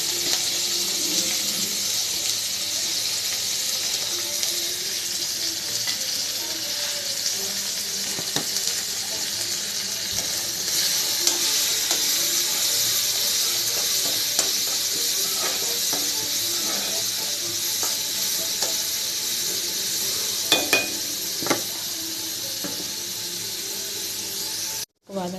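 Radish and spices sizzle in hot oil after mustard seeds have popped, a steady close frying hiss with scattered crackles and a few louder spatters near the end.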